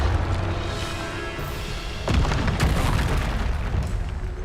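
The Bombarda spell explodes in the Hogwarts Legacy video game, a dense, loud roar of blasts and rumbling with a fresh heavier burst midway, sustained throughout.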